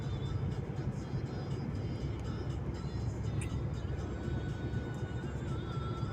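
A car drives along a winter highway, heard from inside as a steady low road rumble and engine drone that holds constant throughout with no talking.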